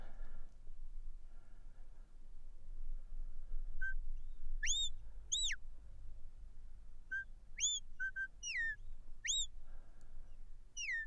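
A sheepdog handler at a sheepdog trial whistles commands to his dog in a series of sharp, high rising and falling whistles, single and paired, over faint outdoor wind.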